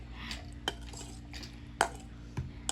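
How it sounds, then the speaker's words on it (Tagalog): Chili, onion and garlic being stirred for a spicy fishball sauce, with a utensil clinking and scraping against a pot in a few scattered, fairly soft knocks. "Haluin na natin mga kabeshi."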